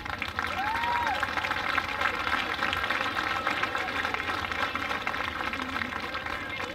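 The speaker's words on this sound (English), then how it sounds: "Let's give them a big round of applause." Crowd applause at a youth pony baseball opening day ceremony, continuous outdoor clapping across the whole stretch, moderately loud and even, with a faint whistle-like tone riding over it.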